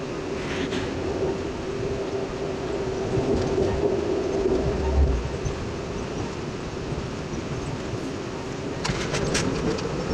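Steady rumble and rolling of the Amtrak California Zephyr passenger train from on board, with a constant low drone, faint track clatter and a few brief higher clicks near the end.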